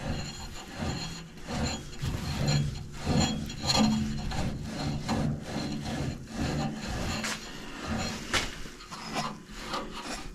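A dry part on a Lawn Ranger mower deck rubs and rasps as it turns, a steady close grinding scrape with repeated rhythmic strokes and no talking.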